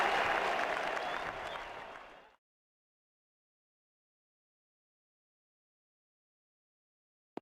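A cricket crowd at an India v Australia Test match bursts into loud applause after a shot, a dense wash of clapping that fades out after about two seconds, leaving silence apart from a faint click at the end.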